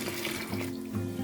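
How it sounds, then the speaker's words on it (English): Cold water runs from a tap into a basin prepared for washing hand-spun yarn, a steady close splashing flow lasting just over a second with no voices. "Some cold water now."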